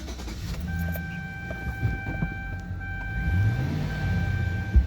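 A 2005 Chevrolet Silverado with a 5.3 engine idles steadily, a low continuous rumble with a faint steady whine above it and a few small knocks, close by, with no talking.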